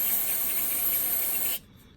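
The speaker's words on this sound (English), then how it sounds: "keep this end up away from the spray, and just spray" Cleaner sprays in one continuous close hiss onto the outside of a car sensor on an Infiniti or Nissan, lasting about a second and a half before cutting off sharply into quiet.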